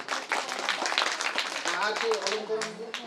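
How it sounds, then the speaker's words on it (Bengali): A crowd claps steadily for a few seconds at a primary school platinum jubilee celebration while voices carry on over the applause. "একটা স্পেশাল ধন্যবাদ হাততালি দিন"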